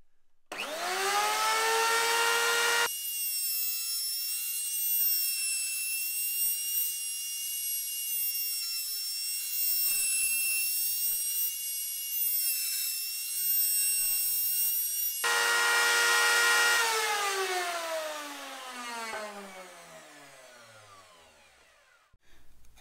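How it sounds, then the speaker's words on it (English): A wood router cutting 45-degree chamfers on wooden corner pieces: a loud, close motor whine spins up, holds a steady high-pitched drone for about twelve seconds under the cut, then winds down slowly to silence. "I'm going to put them through my router and put a 45-degree chamfer on"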